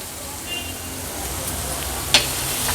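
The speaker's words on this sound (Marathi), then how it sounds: "वांगी छान ह्या मसाल्यामध्ये आपण परतून घेतली आहे आता गॅसची फ्लेम हायस्ट ठेवली आहे" Brinjal sautés in green masala over a high gas flame, giving a steady sizzle and frying hiss from the pan. One sharp clink of a utensil comes near the end, and a voice talks over part of it.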